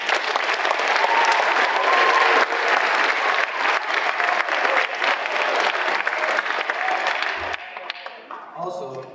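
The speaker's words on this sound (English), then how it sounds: "please give a round of applause to Mrs. Medeiros and our band for that great performance" A school assembly audience bursts into sustained, dense applause, loud and steady for most of the stretch before thinning and tapering toward the end.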